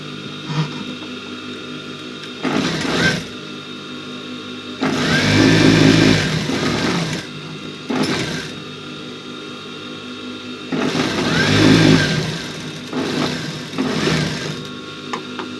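A sewing machine stitches the front and back parts of a man's shirt together in several separate runs, each a close, loud whirring burst of a few seconds with quieter pauses between.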